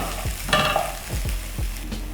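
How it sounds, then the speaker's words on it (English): Garlic fries with softened onions in a pan, a steady sizzle broken by a few rhythmic scraping stirs of a utensil, close and moderately loud. "So my onions are soft, so I'm going to add garlic and let this cook for about 1 to 2 minutes."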